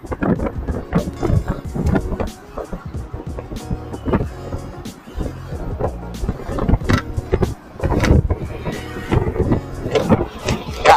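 Polytron Fox R electric motorcycle ridden at full throttle on a quiet road, mostly heavy buffeting wind and road rush with gusty bursts, a faint motor whine beneath it.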